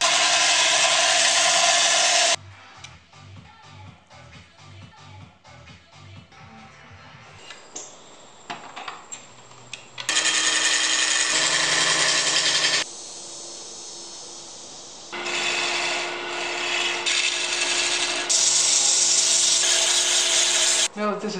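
Segmented maple wood rings are flattened on a power sander, with loud sustained whirring and grinding bursts alternating with quieter gaps of knocking and handling, near and prominent.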